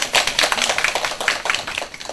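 An audience of parents claps for a teacher at a school college-admissions information session, a quick burst of scattered hand claps, close and fairly loud, with no talk over it.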